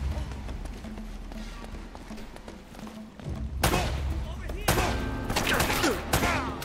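Gunshots from the action video game Uncharted: Drake's Fortune: quiet taps and thumps at first, then two loud, close blasts with echoing tails.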